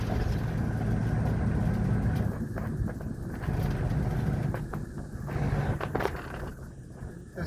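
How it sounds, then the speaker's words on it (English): Road traffic near Steeles Avenue rolls past, a low continuous engine rumble with passing vehicles swelling and fading, some faint clicks and knocks, fairly quiet and distant-sounding. "the traffic is a bit bad outside here now"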